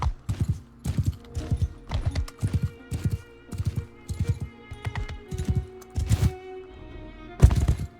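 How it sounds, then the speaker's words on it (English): Rhythmic clip-clop of horse hooves trotting steadily in Mount and Blade 2: Bannerlord, close and fairly loud, with a couple of heavier thuds near the end. "You gotta admire how"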